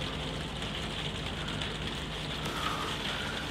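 Mild, infrequent rain in the No Man's Sky video game, a steady soft hiss of falling drops that continues evenly and fairly close throughout, with no voices.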